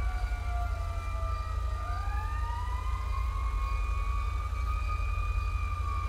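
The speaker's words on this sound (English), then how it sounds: "We got an ambulance on the way. You can hear it already." A wailing ambulance siren in a roleplay video game sweeps up and down in pitch over a constant low engine rumble, steady and fairly loud throughout as the vehicle approaches.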